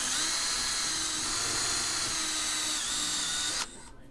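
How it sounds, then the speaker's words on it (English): A power drill whines loudly and steadily as it bores holes into annealed tool steel with cutting oil, then cuts off abruptly near the end, leaving quieter background. "Drilling a couple holes in it."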